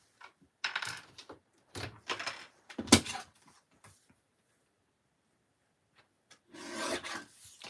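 A paper tag for a junk journal is trimmed in short bursts of close, raspy cutting and rubbing, separated by quiet gaps, with a sharper snap partway through and a longer scrape at the end.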